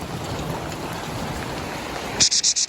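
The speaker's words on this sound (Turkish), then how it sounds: "Vallahi fena yağıyor." Heavy rain pours down in a dense, steady hiss, then a few sharp high-pitched beeps cut in near the end.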